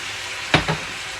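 Peeled tomatoes simmer in a pan of bolognese sauce over lowered heat. Two quick sizzling spits stand out from a soft, steady background hiss.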